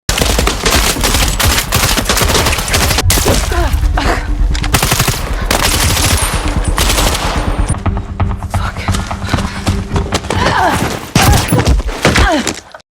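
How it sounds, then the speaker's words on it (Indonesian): Gunfire in a film action scene: rapid bursts of loud, close shots in a dense volley, with impacts and thuds and a few groans mixed in, easing somewhat toward the end. "Setelah berhasil menembak Gwen, Ana tidak langsung menghabisinya"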